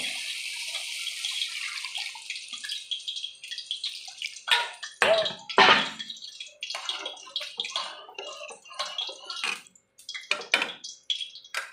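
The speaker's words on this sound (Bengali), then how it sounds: "আমি এবার জল দিয়ে দেবো" Water is poured into a pan of fried spices for doi katla. Intermittent splashing bursts and gurgles break through a hissy background, interspersed with clinks of the pan.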